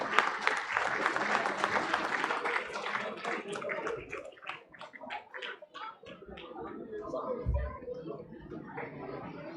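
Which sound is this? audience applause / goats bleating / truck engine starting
audience applause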